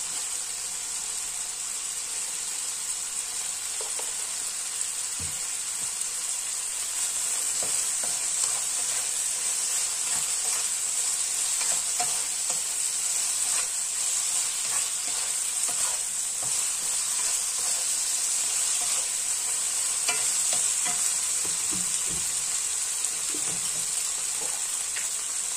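Food being stir-fried in a pan for a child, with a steady loud sizzle throughout and repeated scraping and clinking of the utensil as it is stirred, no voices.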